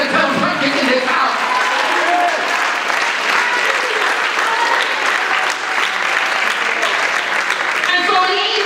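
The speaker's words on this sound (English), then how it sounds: "Just clap your hands and tell them something in this house." A church congregation at a Sunday service claps and cheers loudly, a dense, continuous wash of hands and voices filling a large room.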